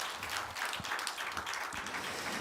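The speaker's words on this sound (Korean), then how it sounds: "우리 하나님께 감사의 박수 한번 올립시다" A church congregation gives a round of applause during a Sunday worship service, a soft, even rustle of many hands clapping at a distance, with no single clap standing out.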